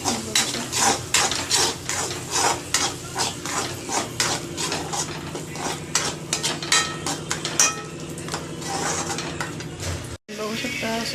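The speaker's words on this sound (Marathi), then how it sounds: "तेल सुटेपर्यंत आपण मसाला परतून घेणार आहोत" Black masala being stirred and sautéed in oil in a pan for a paneer dish, with repeated scraping and clinking of a spoon against the pan over a steady low sizzle, close and fairly loud, a brief gap near the end.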